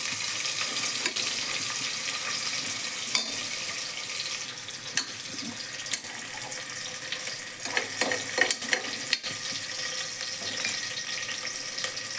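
Onions frying until browned in a pan for green moong khichdi, a continuous loud hissing sizzle throughout, with occasional soft scrapes and knocks from stirring rising above the steady fry.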